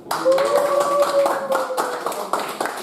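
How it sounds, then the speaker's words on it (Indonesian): A classroom of students claps hands together after a teacher announces a group's score, a short burst of fairly close clapping with a tonal voice-like line running beneath it for most of the stretch. "Tepuk tangan."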